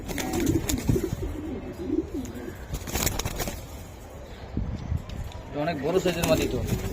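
Racing pigeons of foreign bloodlines coo in a loft or market, soft repeated burbling calls rising around the middle and end, heard beneath ongoing talk between people.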